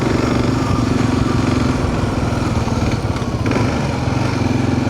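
A big motorcycle engine drones steadily and loudly while riding a rough, chopped-up road in Arkansas, a continuous close rumble with no voices.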